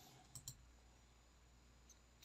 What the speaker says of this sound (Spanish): vamos a darle un clic